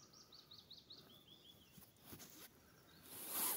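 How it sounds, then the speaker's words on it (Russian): Small birds chirp and trill in a repeated series of short phrases near a small river on a sunny May morning, quiet and somewhat distant over faint outdoor ambience. "птички поют"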